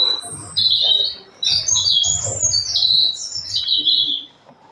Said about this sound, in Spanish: El ruiseñor.